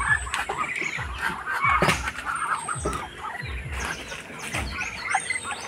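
Several hens clucking close by in short repeated bursts, with soft chirps and scratchy movement in the background.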